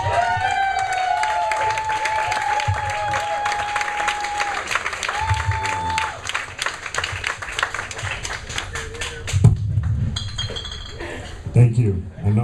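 A nightclub comedy crowd in St. Thomas applauds and cheers a comedian taking the stage, with steady loud clapping, clinking glasses and voices over it, fading as he begins talking.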